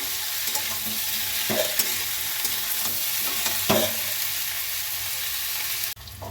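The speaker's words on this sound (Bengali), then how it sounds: "এই সবগুলোকে আবারও খানিকটা ভেজে নেব।" Potatoes and onions frying in a pan, giving a steady sizzle with occasional scraping stir clicks, close and continuous before a brief drop near the end.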